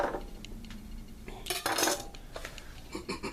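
Knife slicing through a puffball mushroom, with scattered scraping and clinking knocks against a cutting surface and utensils, close and fairly quiet, with a brief louder burst midway.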